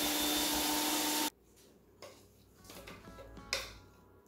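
A food processor grinds cookie crumbs with butter for a no-bake cheesecake, a loud whirring motor for about a second, then stops, followed by faint scraping and clinks of the bowl.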